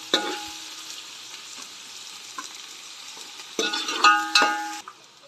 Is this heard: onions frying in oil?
yes